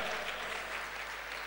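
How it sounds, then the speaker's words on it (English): Clapping from an audience at a church conference award and variety night, an even, fairly faint wash of many hands heard from a distance. "You better clap loud and clear."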